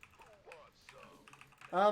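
Computer keyboard typing comes as a few quick, faint key clicks near the microphone, partly under soft speech, with a louder burst of voice at the end.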